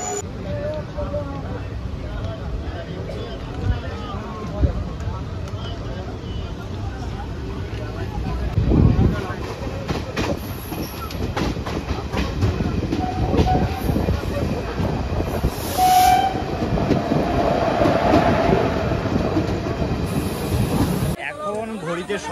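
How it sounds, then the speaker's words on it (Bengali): A train rolls into Azimganj station, a continuous rumble of wheels and carriages with clicks and faint squeals building as it arrives, under general platform noise and some voices. "আর আজিমগঞ্জে আমাদের ট্রেন এক্ষুনি ঢুকলো।"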